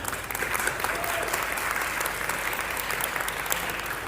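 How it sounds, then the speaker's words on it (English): An audience gives a round of applause at a talk, steady, dense clapping from many hands that continues evenly throughout. "please give a round of applause to my 2 amazing assistants, Tanvika and Zaina"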